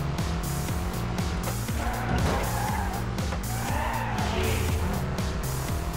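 A Cadillac slides sideways in Midnight Club: Los Angeles, its engine revving and shifting loudly while tires squeal through the drift, steady and close throughout.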